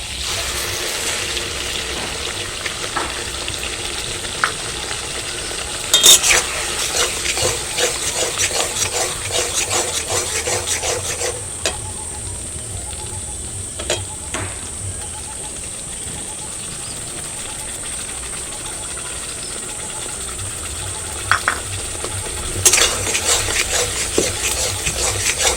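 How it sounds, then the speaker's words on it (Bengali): Fried onion paste goes into a pan for a butter potol curry with slit green chillies and is stirred; soft scraping and rubbing strokes with a faint, low sizzle come and go, with a few sharper spoon-against-pan knocks. "এবারে দিয়ে দিচ্ছি ভাজা পেঁয়াজের পেস্ট।"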